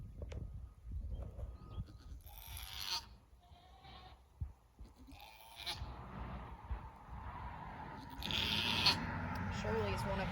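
A goat in labor gives a few bleats, some sharp and some strained, spread across the clip among quiet barn noises and a person speaking softly at times.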